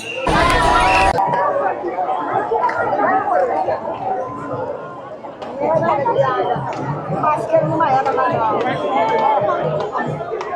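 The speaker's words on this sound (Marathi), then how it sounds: "तो सोहळा बघायसाठी लाखोंनी भाविकांची गर्दी इथे जमा होते" A large crowd of pilgrims at the Pandharpur Wari procession chatters in a dense, continuous hubbub of many overlapping voices, with a brief loud burst of noise at the very start.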